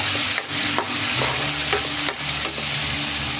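Corned beef with garlic and onion sizzles steadily in a pan while a utensil stirs and scrapes through it, with several distinct scraping strokes over continuous frying crackle and a low background hum.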